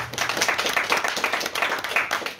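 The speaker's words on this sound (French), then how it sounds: "On peut l'applaudir encore." An audience at a literary conference claps steadily and fairly close throughout, a dense patter of hands with no voices over it.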